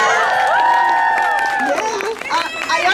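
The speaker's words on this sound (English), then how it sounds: "let's give it a round of applause for Sydney." A crowd at a high school senior night swim event claps and cheers, with whoops and shouts rising over the steady applause, close and lively.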